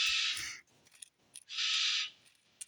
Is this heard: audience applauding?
no